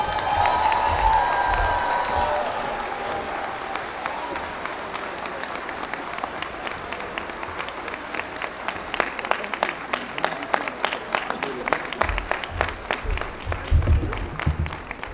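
A large audience applauds steadily at the Florida A&M College of Law hooding ceremony, a dense wash of clapping that stays full and even throughout the clip.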